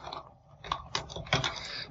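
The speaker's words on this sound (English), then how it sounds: "I can start typing in" Quick typing on a computer keyboard while composing an email, a run of close, crisp key clicks with a few louder strikes, heard alone without talk.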